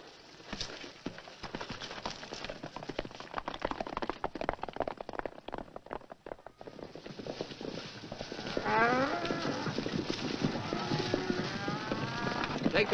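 A herd of cattle lows repeatedly at a moderate distance, with clip-clopping hooves and horses moving among them, steady and unbroken throughout.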